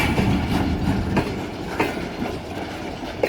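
Millat Express, hauled by locomotive 8211, rolls along the rails with a loud, close rumble and repeated clickety-clack wheel beats at irregular intervals, with no voices.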